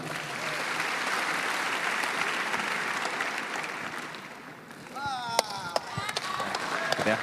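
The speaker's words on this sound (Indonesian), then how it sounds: "tepuk tangan" A large audience of IPDN cadets applauds during a ministerial speech, loud sustained clapping with crowd murmur that thins out toward the end as scattered voices and sharp sounds emerge.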